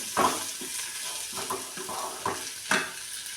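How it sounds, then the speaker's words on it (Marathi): Okra frying in a pan while being stirred, a steady close sizzle broken by several short scraping stir strokes at irregular intervals. "ह्याच्यात मी भेंडी घालून घेते आता आणि ह्याला छान असं परत परतून घ्यायचं"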